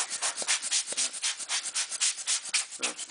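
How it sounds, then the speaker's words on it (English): Steady brushing and rubbing around a camera lens body during cleaning, a soft scratchy friction repeating in quick strokes, close up with no talking. "I'll clean also around the lens body"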